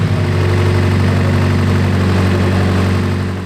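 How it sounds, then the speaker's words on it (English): A turbocharged Honda S2000 AP2 engine idles steadily and loudly up close, a continuous low throbbing drone with no speech over it. "the engine is running great"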